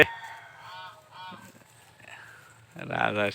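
Geese honk on a livestock farm in Gajipur, Bangladesh, with several short nasal calls spread through the moment and a louder burst of honking at the end, while someone talks in between.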